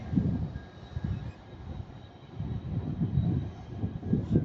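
A TransPennine Class 397 Nova electric unit running from Edinburgh to Manchester Airport rolls past at Ardwick, a moderate rumble with rhythmic wheel thumps swelling and easing, heard alone.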